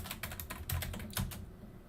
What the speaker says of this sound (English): I would type in admin and then the password